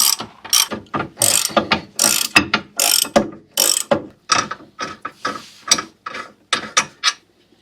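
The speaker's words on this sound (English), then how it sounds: "Just needed the 1/2 inch ratchet." Half-inch ratchet working loose brake caliper bracket bolts on a 1998 Mercedes-Benz C230, a quick run of loud clicking bursts in uneven spurts with short pauses, close up and alone.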